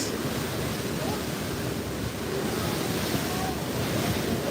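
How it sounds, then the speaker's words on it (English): Ocean waves heard from the deck of the Staten Island Ferry make a steady, loud rushing wash. Wind noise hits the microphone throughout. "Sound of the ocean"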